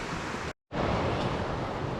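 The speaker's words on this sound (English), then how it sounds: "That river's sounding better and better." Steady broadband rush of a river flowing near a riverside campsite, loud and continuous with a brief dropout in the middle, no voices.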